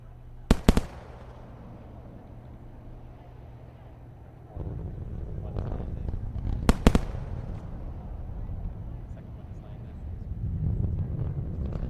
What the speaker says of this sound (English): And we are moments away from sonic boom goodness.